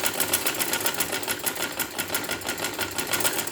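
A sewing machine runs steadily while stitching a round neckline on a garment, its rapid, even mechanical whir continuing close up and unbroken for the whole stretch, with no voices.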